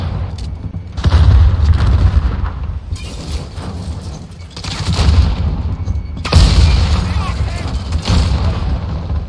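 Gunfire and booming blasts in a hardcore team deathmatch of Call of Duty Modern Warfare, loud bursts recurring in waves with heavy low rumble, layered over game noise while a player talks.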